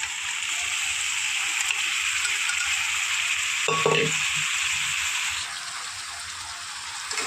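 Boiled jackfruit sautés in hot spiced oil in a pan, giving a steady, close sizzle with a brief scrape of stirring partway through, then the frying continues slightly softer.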